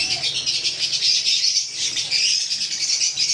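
Many small finches, including violet-eared, green and lutino birds at a bird sale, chirp continuously in a dense, busy chorus, close by, with no talking.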